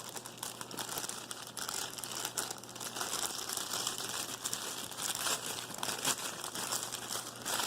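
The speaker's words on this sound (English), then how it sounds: "Get all the cake mix out of the bag." Plastic bag of cake mix being squeezed and scraped empty, a steady close crinkling and rustling of the plastic that runs without a break.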